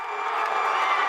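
A campus crowd cheers and shouts to pick the winner of a student contest, a loud, continuous roar of voices that holds steady without a break.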